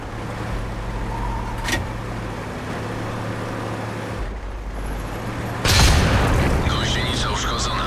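Enemy artillery shells strike a tank in the World of Tanks video game: two heavy booming impacts, one short and one bigger and sustained near the end, over a steady engine rumble.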